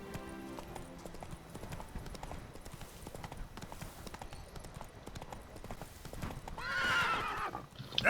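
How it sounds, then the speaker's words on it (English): In The Witcher 3 the horse Roach gallops with a steady, rapid clip-clop of hooves and finishes with a loud whinny, while a voice talks faintly underneath. "Tenemos que ir a caballito."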